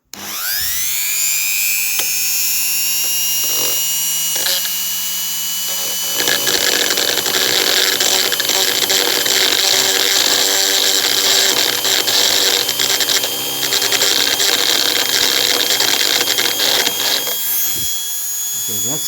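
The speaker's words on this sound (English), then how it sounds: "take my Dremel and grind that little pin in the center off" A Dremel rotary tool grinds off a small center pin in a CUISINE 5100 food processor, a steady high-pitched whine that starts, briefly pauses, then runs loud and continuous for most of the span before cutting off near the end.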